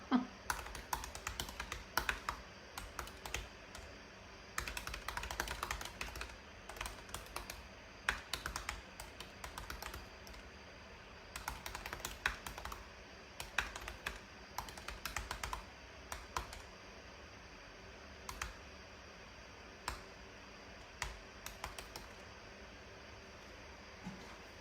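Keys clatter in quick, irregular bursts of typing on a computer keyboard, close and clear, pausing briefly between runs.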